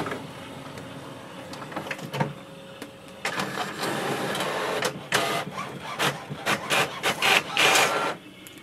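An HP OfficeJet Pro 9012 printer makes a copy, whirring and rubbing as paper feeds, then a series of rhythmic clacks and sliding sweeps that build louder as the print head shuttles back and forth.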